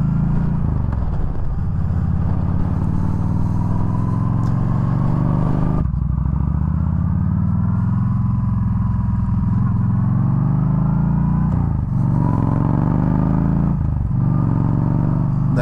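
A Yamaha V Star 1300 cruiser motorcycle with a Cobra slip-on exhaust rumbles steadily at low revs while riding, a deep continuous engine drone with slight rises in pitch and no talking.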